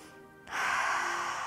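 A deep breath drawn during Wim Hof guided breathing: after a brief quiet, a loud, airy rush of air starts abruptly and holds steady, close and unbroken.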